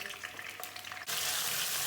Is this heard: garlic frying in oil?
yes